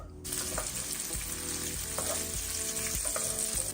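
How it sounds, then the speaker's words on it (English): Thick-cut bacon frying in a pan over medium heat, a steady dense sizzle and crackle running throughout with occasional utensil scrapes, close and fairly loud. "Add all your bacon to a pan on medium heat, and I'm gonna cook this until crispy"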